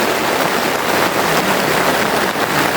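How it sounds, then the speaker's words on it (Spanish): Heavy rain pours steadily near a camping tent in Anamorós, El Salvador, a dense, even hiss filling the whole stretch with no letup and no voices. "Y está lloviendo bastante fuerte."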